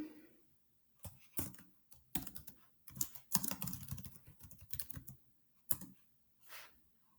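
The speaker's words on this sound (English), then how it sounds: "When the page is loaded, you're just going to want to type your name." Keys tapped on a computer keyboard while entering a name, in short irregular bursts of clicks separated by brief pauses, close and fairly quiet.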